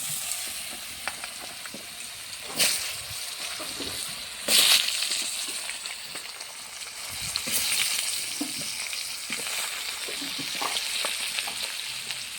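Chopped potatoes and vegetables hit hot oil in a kadai seasoned with dried chilli and five-spice, a strong continuous frying sizzle with bursts as more pieces drop in and stirring scrapes.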